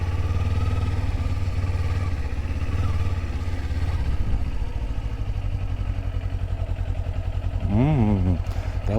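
A motorcycle engine runs at low, steady revs throughout slow cone weave practice, a continuous near rumble with slight throttle changes and a brief rising-falling tone near the end.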